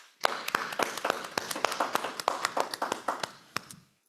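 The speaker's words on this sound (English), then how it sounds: "If we could give them a round of applause." Audience applause for the panelists at the end of a sustainability series panel, sparse and fairly small, with distinct individual claps in an irregular rhythm, fading out near the end.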